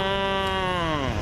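A person imitates a cow's moo with a long, steady, droning vocal tone that bends slightly downward and fills the whole moment at close range, with no other talk.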